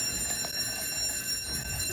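A fire alarm set off by smoke from a griddle sounds as a steady, continuous high-pitched electronic tone, loud and unbroken over a noisy indoor background.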